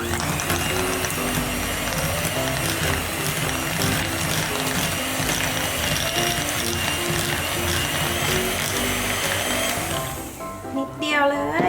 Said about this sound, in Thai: ตีครีมชีสให้กลายเป็นครีมเลยค่ะ